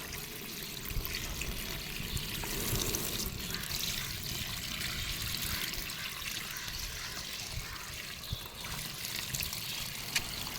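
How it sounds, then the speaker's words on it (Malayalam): Water poured into a lotus planting container over a cover laid on loose soil, a continuous close splashing trickle that runs steadily throughout without any voices. "നല്ല വെള്ളം ഒഴിക്കുക."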